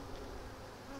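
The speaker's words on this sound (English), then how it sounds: "Here are the bees down here." Honeybees outdoors near a swarm trap box make a faint, steady buzzing drone, continuous and without other sounds.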